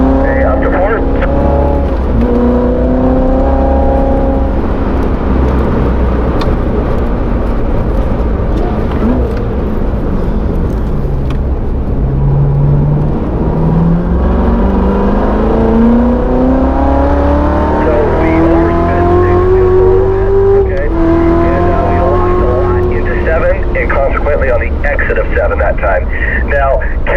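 A performance car laps the Spring Mountain Motorsports race track at a driving school, its engine droning loud and steady with rising and falling revs through the corners, while an instructor's voice talks over it on a radio.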